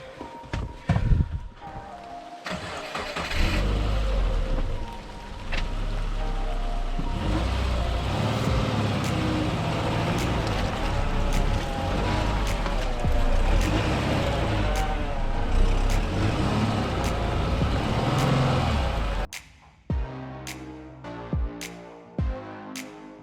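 A Subaru starts up near a remote base camp and pulls away, a steady engine drone and rolling tyre noise filling most of the stretch before cutting to scattered knocks and clicks at the end.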